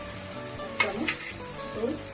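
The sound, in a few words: yogurt added to sizzling soybean and chana dal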